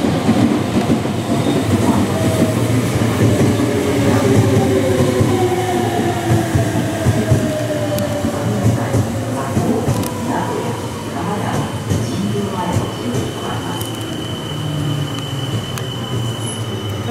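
A Meitetsu train rumbles past nearby in Japan, loud and continuous, with clattering wheels and faint metallic squeals over the roar.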